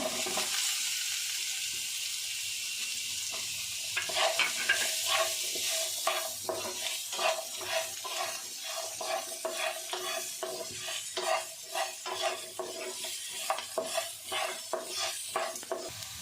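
Boiled potatoes stir-fried with turmeric in a pan for a crispy potato fry, a constant sizzle broken by a dense run of rhythmic spatula scrapes and taps, close up with no talking.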